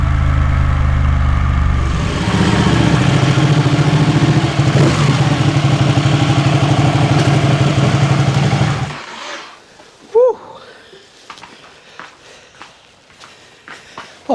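Ducati sports motorcycle engine droning loud and steady while riding for about nine seconds, then cutting out, leaving faint scattered knocks and clatter in near silence.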